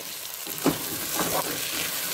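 Potatoes drop into hot fenugreek-flavoured oil and fry with a steady close sizzle, a couple of louder bursts and stirring scrapes; nobody talks.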